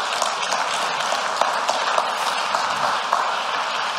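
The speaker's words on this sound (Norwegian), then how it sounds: "Og dere, det er verdt en applaus." Sustained audience applause at a design presentation, an even wash of many hands clapping close and steady for several seconds, with no voices on top.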